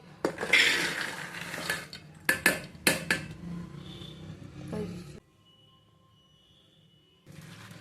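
Dry peas, chickpeas and black-eyed peas rattle and clatter into a metal pressure cooker in several loud bursts, then the sound drops to near silence before a brief rustle resumes.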